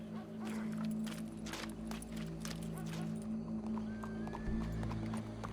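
Horse hooves clip-clop steadily in Red Dead Redemption 2, with a whinny rising near the end, close and clear over a low ambient hum of the game world.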